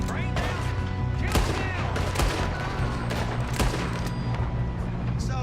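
Heavy gunfire rattles through a Red Dead Redemption 2 train robbery shootout, with sharp close shots and rapid bursts layered over loud crashes, continuous for several seconds.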